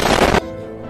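A video game gunshot gives a single loud, sharp burst of gunfire that cuts off quickly into a fading, ringing tail, with no voices over it.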